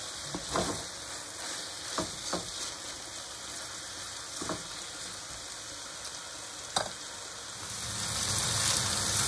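Chicken fillets seasoned with salt and pepper frying in a pan, a quiet, steady sizzle and crackle with a few sharp pops and utensil taps, the hiss swelling louder near the end.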